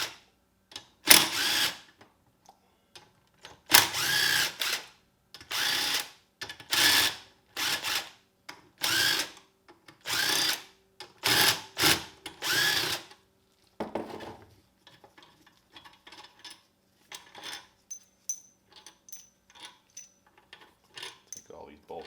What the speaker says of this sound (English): just pop these cylinder head bolts off with a 1/2 inch socket